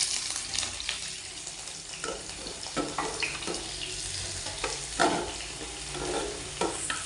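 Sliced onions and curry leaves fry in hot oil while being stirred. A continuous sizzle is broken by repeated scraping strokes of a spoon against the pan.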